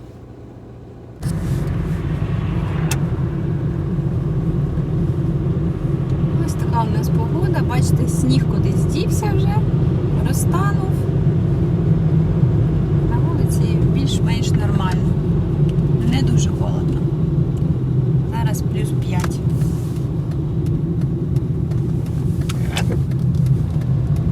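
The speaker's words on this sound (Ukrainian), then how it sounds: "Все, я нагріла машину, можна вже їхати." A car setting off after its engine was warmed up, with a steady low engine rumble starting abruptly and continuing throughout, while someone talks over it from inside the cabin.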